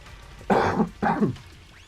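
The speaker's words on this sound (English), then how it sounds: "Coughing as well, not a good look" Two harsh coughs in quick succession, close and fairly loud, with quiet background before and after, during a kart racing tournament.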